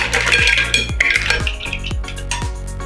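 Cooked mussels are tipped from a pan into a large bowl, giving a burst of clattering shell and metal clinks, with several scraping rattles in quick succession, close and fairly loud.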